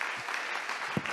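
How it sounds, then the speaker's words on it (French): Audience applause at the opening of an economic inclusion summit, a short burst of steady crowd clapping heard at moderate distance, with no speech over it. "Je pense qu'on peut tous s'applaudir parce que c'est exceptionnel ce qui vient de se passer."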